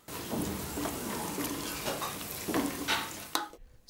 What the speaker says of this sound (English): Add 3 tablespoons of raisins, 3 tablespoons of chopped cashews and sauté.